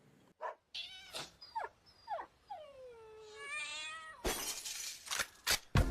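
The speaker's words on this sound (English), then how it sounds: "This track starts off with dogs barking, cats meowing, glass breaking, and a gun cocking" The intro of a track opens with cats meowing in several drawn-out, rising and falling cries, then sharp clattering bursts like breaking glass toward the end.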